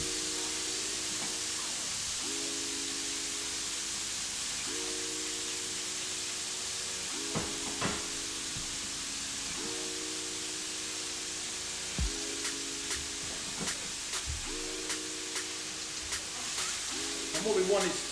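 Beef for gyudon fries in a pan, giving a continuous soft sizzle and hiss beneath a recurring tonal hum, with occasional clinks and faint sounds on top.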